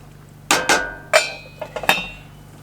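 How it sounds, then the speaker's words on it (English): A utensil scrapes and clinks against a pan while rice simmering in broth is stirred, a few sharp, close metallic knocks amid quiet. "just going to stir my rice"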